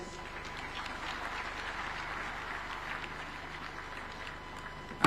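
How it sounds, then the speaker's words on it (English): A conference audience applauds steadily, a dense and even wash of many hands clapping at moderate distance, sustained for about five seconds with no speech over it. "Another super applause for our host."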